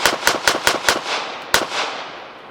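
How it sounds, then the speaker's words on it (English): A Girsan MC14 G84 pistol, a Beretta Cheetah clone, fires a fast string of five sharp shots followed by one more after a brief pause, loud and close, with the reports ringing out afterward. "And this little gun will shoot."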